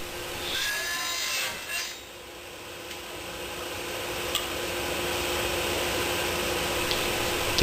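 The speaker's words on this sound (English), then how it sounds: "Next I use my homemade tenon jig to cut the tenons on the ends of the slats." Wooden slat ends are cut into tenons using a homemade tenon jig, giving a steady, continuous rasping and sawing sound at close range that holds throughout with no talk.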